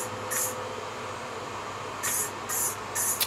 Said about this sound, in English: I'm going to give it a couple of spray coats of lacquer